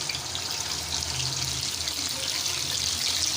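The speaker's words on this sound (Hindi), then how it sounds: "चिकन को हम अब ऐड कर देंगे ऑयल के अंदर। इसको बड़े एहतियात से उठाना है और इस तरीके से हम इसको डालेंगे ऑयल के अंदर" Pieces of chicken for a tandoori roast hit hot oil and fry with a loud, steady, close sizzling hiss that continues without pause, with no talk.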